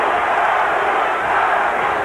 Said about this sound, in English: And again, the chant, Larry, Larry, the crowd very much in support of the challenger.